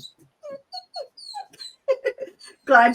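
A new puppy whines in a series of short, high, wavering whimpers, close and fairly loud, ending in a louder yip-like cry.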